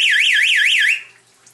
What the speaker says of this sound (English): you can hear that our alarm is definitely working